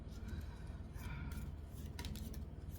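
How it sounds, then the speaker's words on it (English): Heart-shaped oracle cards being shuffled, soft papery riffling and rubbing in short bursts, close and quiet with no talk. "These ones are a little weird to shuffle because they're not a square card, they're little heart-shaped cards."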